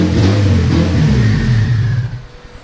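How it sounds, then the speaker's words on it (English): A turbocharged Honda Civic engine runs loud and close, revving and rumbling as the car moves off, then the sound fades near the end. "you guys did just heard the car turn on, reverse, and go forward"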